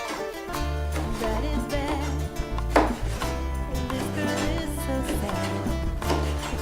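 A knife chops a green pepper into quarter-inch strips on a cutting board, giving a quick, regular series of firm knocks over a background hum, with no talking.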